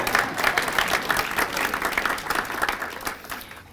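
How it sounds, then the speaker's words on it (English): Applause from a crowd at a volunteer breakfast, brisk and fairly close clapping that runs steadily for a few seconds and then tapers off, with a faint murmur of voices beneath. "give her a round of applause"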